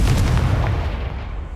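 A Confringo fire spell blast in the video game Hogwarts Legacy, a loud booming burst that rumbles and fades out over about a second and a half, with no talking.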